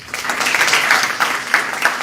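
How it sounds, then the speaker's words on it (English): An audience at an Indian Medical Association branch inauguration gives doctors a round of applause, many hands clapping together at a steady, fairly loud level with small swells. "I think you all deserve a round of applause"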